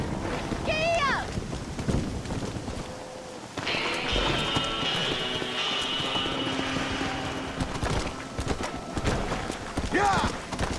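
Horse hooves galloping in the Red Dead Redemption video game, a steady clip-clop running under other game sounds and a voice speaking, with a bright mechanical whine layered over the middle stretch.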